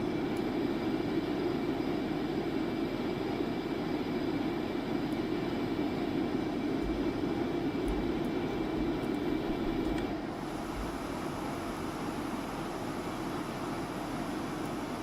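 Concorde engines at full throttle in a flight simulator game make a steady, loud jet roar that drones evenly throughout, easing slightly toward the end, with no voices.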